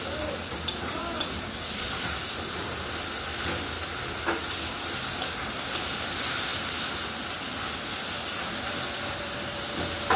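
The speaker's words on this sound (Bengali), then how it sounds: "মশলাটাকে ভালো করে কষিয়ে নেব যতক্ষণ না টমেটোটা গলে যায়।" A spice masala with tomato and salt sizzles and fries steadily in a pan, a close, continuous hiss with soft scraping of stirring and occasional small pops.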